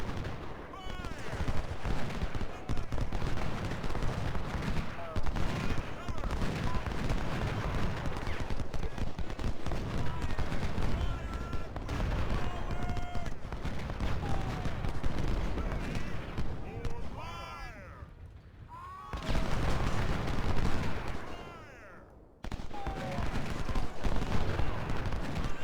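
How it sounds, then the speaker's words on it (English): Sniper fire in the Ultimate General: Civil War battle at Gettysburg, with sharp reports standing out over a dense, continuous din of distant musketry and cannon, while a voice talks over the battle. "My sniper is going to come in and snipe this guy."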